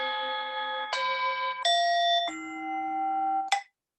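A meditation timer app plays its interval bells, a sequence of four or five clear, sustained chime tones at shifting pitches, each ringing in turn before a final short strike and silence.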